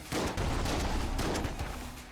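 Winchester rifle fire in the video game Enter the Gungeon: a loud, dense barrage of overlapping shots and blasts that runs almost without a break for about two seconds.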